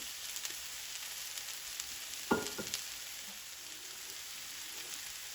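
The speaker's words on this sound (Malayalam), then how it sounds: "ഇനി ഇത് ഒരു മീഡിയം ഹീറ്റിലേക്ക് മാറ്റിയിട്ട് ഇളക്കി വറ്റിച്ചെടുക്കുക" Coconut chicken thoran fries in a pan over medium heat, a faint, steady sizzle broken by one short burst of stirring scrapes near the middle, with no one talking.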